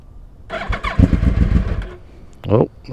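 A 2010 Yamaha R1 motorcycle engine cranks and catches, settling into a rough, loud idle, then gives a short sharp rev near the end.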